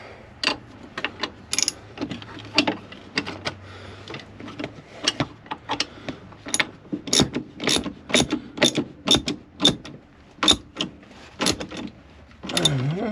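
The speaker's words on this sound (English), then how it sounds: "Get my wrench back on there." A ratchet wrench tightens a fastener on a Ford Crown Victoria, giving a long run of sharp, close clicks in uneven bursts that speed up into a steady rhythm, with no talking.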